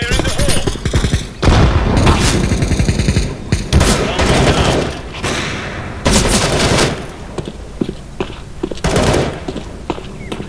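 Rapid bursts of gunfire from Counter-Strike: Global Offensive, loud, close rattling volleys broken by short pauses and a few single shots, with a player talking over parts of it.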